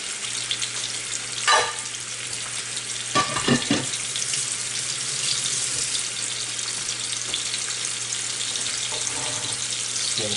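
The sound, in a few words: salmon frying skin side up in a pan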